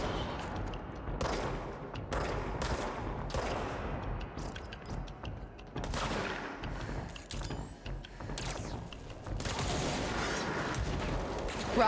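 Rocket fire in the action game Control at Black Rock Quarry, repeated sharp blasts and booms spaced through a busy combat soundscape, fairly loud, with a whooshing streak and scattered impacts between them.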